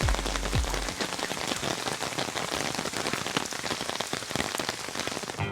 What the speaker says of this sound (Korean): 와, 밖에 비 엄청 많이 와.